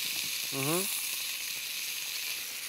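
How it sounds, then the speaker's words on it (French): A veal rack sears in a hot frying pan, giving a steady loud sizzle that runs throughout, with a brief voice heard early under the frying. "Donc là, on va la marquer un petit peu de chaque côté, la faire bien dorer un tout petit peu"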